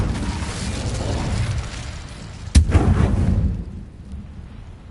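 An Incendio fire spell is cast in Hogwarts Legacy: one sharp burst lands midway over a steady rumbling game soundscape, followed by a short roaring whoosh that fades to near quiet.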